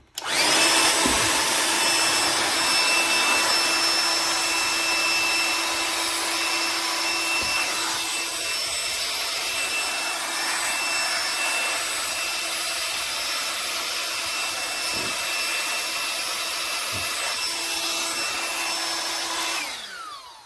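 Ryobi cordless air duster running steadily at high speed, a loud continuous whooshing whine lasting about twenty seconds with faint rubbing and ticking underneath, ending abruptly as the motor stops.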